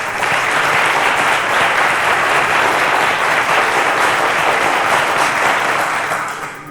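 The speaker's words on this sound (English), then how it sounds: "Once again, ladies and gentlemen, a round of applause to our teachers" Loud, sustained studio audience applause for teachers on a television quiz show, a thick continuous roar of many hands clapping close by that holds steady before tapering at the end.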